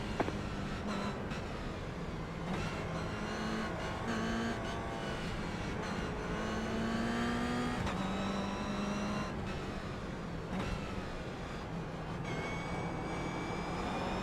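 Pack of Toyota GR race cars at Sonoma Raceway in an esports racing game, several engines droning and shifting together at steady loud volume, overlapping pitches rising and falling as the field rolls toward the green flag.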